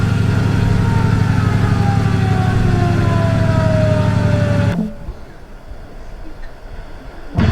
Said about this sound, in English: Oh, you hear the siren?